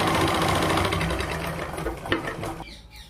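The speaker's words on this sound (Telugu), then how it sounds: "ఇలా జాయిన్ చేసుకున్న తర్వాత మరో స్టిచ్ లైనింగ్ మీద ఇలా వేసుకోవాలి." A sewing machine stitches the lining of a blouse, running as a steady close mechanical whirr, then slowing to a few light clicks and stopping near the end.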